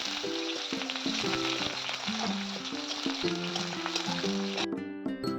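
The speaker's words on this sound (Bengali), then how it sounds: "এতে আমি কিছুটা পেঁয়াজ কিছু দিয়ে দেবো" Sliced onions fry in hot oil in a wok over a tempering of bay leaf, dried red chillies and cumin, giving a continuous close sizzle that softens slightly near the end.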